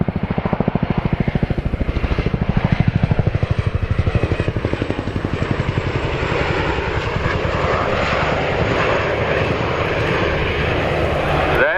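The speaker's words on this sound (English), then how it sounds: "Please turn your eyes to the sky for the 2025 Chinook Roll demonstration." A Chinook helicopter flies a display at the RAF Cosford Airshow 2025, its twin rotors giving a loud, rapid rhythmic chop that softens slightly as it moves away. A commentator's voice is heard faintly beneath it.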